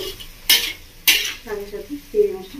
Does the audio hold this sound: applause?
no